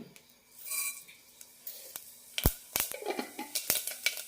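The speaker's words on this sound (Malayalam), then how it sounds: "എണ്ണ ചൂടായിട്ടുണ്ട് അതിലേക്ക് കടുകിടാം" Mustard seeds hit a tablespoon of hot oil in a pressure cooker while brinjal chutney is being made. Metal clinks come first, then a run of sharp, close crackles and pops that grow busier toward the end.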